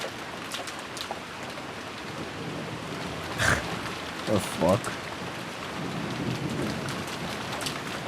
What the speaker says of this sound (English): The only voice that called after them was the sound of the rain.